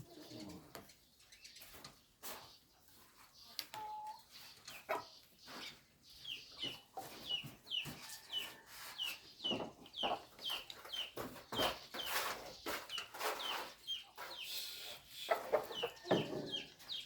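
Chickens cluck steadily and close by as they gather to feed in a rural yard, with short overlapping calls and coos from several birds and no one talking.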